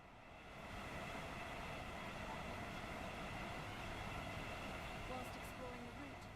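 A Class 807 intercity train in Avanti West Coast livery, modelled in Train Sim World on the West Coast Main Line Trent Valley route, runs with a steady rumbling roar and motor hum under spoken narration.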